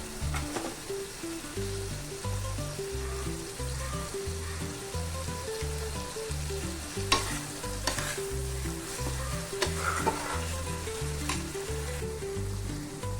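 Spices for a prawn malai curry sauté in a pan with a constant close sizzle and hiss, a few sharp stirring clinks cutting through, while music plays underneath.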